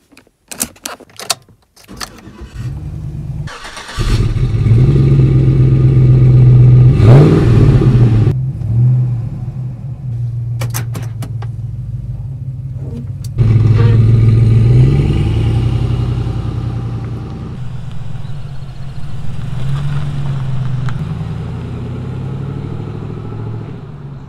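A Chevy Tahoe PPV police SUV with engine upgrades, tune and aftermarket exhaust jingles keys, then cranks and starts into a loud, deep idle, revving up twice in long surges before settling into a steady rumble.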